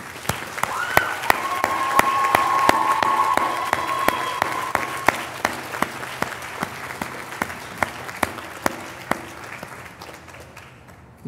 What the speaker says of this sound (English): join me, if you would, in a round of applause for all of them